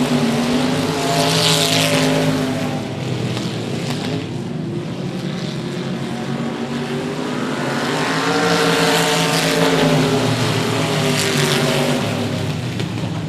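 Several 1000cc race cars roar around the 105 Speedway oval after the green flag, a loud, continuous multi-engine drone with overlapping pitch sweeps as cars pass, swelling and easing without talk.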